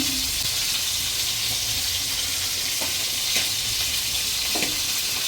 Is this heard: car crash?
no